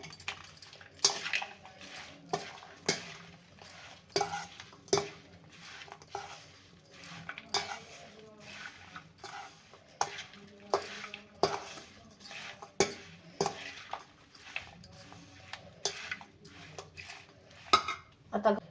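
Pods mixed with red chilli powder and salt for pickle in a metal vessel, making regular clinks and scrapes of a spoon against the pot in a steady rhythm, close and fairly quiet.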